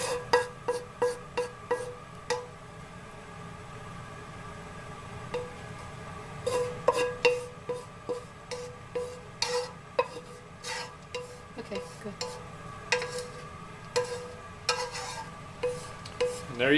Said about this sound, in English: cover it and let it cook for a couple minutes and stir in between